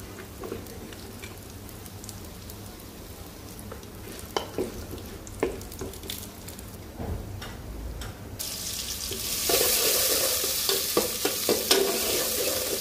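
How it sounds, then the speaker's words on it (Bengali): Lentil dumplings (bori) fry in oil, a low sizzle punctuated by the scrape and clack of stirring, then a louder, brighter hiss of frying swells for the final few seconds; no one talks. "এখন বড়িগুলো ভাজবো।"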